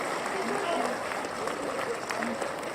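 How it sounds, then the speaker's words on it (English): A podcast audience claps and cheers in a steady wash of applause that lasts throughout, with scattered whoops and voices mixed in. "We weren't gonna start the podcast without some applause"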